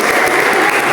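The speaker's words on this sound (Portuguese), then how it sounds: "Você pode aplaudir o Senhor, meu irmão?" Loud, dense clapping from a church congregation during a Thursday worship service, a steady wash of many hands with no gaps.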